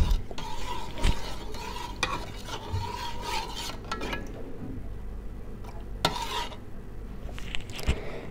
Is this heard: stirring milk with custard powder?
yes